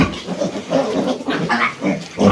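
Close, continuous grunting and snuffling from several piglets, low rhythmic oinks overlapping with no pauses.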